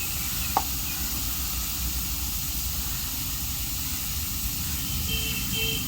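Ginger garlic paste sizzling in a hot pan for mutton kulambu, a steady, even hiss held at moderate level throughout, with one sharp click early on.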